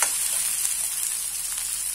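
Ground spices such as coriander-cumin powder frying in a hot pan for pav bhaji, giving a steady, close hiss of sizzling that stays even throughout with no voices.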